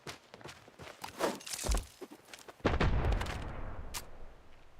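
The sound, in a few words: grenades exploding in the video game Standoff 2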